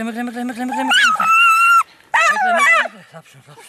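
A hunting dog searching a raccoon dog burrow gives loud, high, drawn-out yelping barks and whines in several close bursts with short pauses between them.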